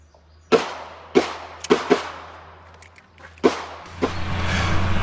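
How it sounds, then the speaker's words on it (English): A Taurus TX22 .22 pistol fires from a benched position outdoors, five sharp, loud shots at irregular intervals. Each crack decays into a short echo over a steady low rumble, and a rising wind-like noise takes over at the end. "that's enough shooting with the TX22 from a benched position"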